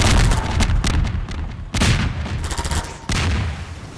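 APC rockets and blasts in Half-Life 2, with loud heavy booms and gunfire in several surges, each sharp onset followed by rumbling decay.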